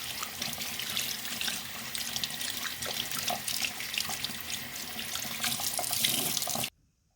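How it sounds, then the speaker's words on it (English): Hands being washed under a running tap, a steady close hiss and splash of water at a sink that continues without pause, then cuts off abruptly at the end. "you want to wash your hands for at least 20 seconds so you get all those germs off"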